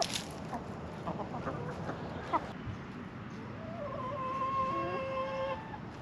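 Hens cluck in short, scattered bursts, with a longer rising call near the end, over steady farmyard background noise.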